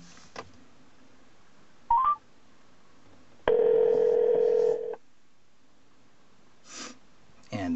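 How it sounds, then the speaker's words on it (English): Touch-tone dialing beeps from a Chrysler UConnect 8.4 in-car system sound as a number is entered, with a short blip, then a sustained tone, and faint clicks and breaths in a quiet cabin. "I'm going to click on dial, and I'm going to enter the number for our location"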